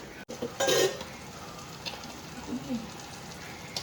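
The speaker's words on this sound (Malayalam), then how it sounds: "മീൻ വറുത്ത റെഡി ആയിട്ടുണ്ട്" Steady sizzling of fish frying in a pan, with a brief louder burst of crackle and a few soft stirring or utensil clinks.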